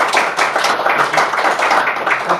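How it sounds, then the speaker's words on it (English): An audience at a conference session claps for its speakers, a dense, steady patter of many hands close by that keeps an even pace throughout without voices. "Join me in giving them a round of applause"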